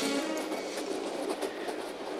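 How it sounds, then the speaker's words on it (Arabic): A train rolls along the rails, a dense, fairly quiet wash of rushing and rattling noise with faint rhythmic clicks from the wheels, steady from start to finish. "معقولة قطر من غير سواق؟"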